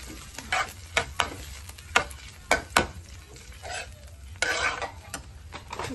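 Flour stirred into melted butter in a pan, giving a soft scraping and sizzling texture broken by sharp clicks and taps of the spoon against the pan, with a louder stretch of sizzle near the end and no talk.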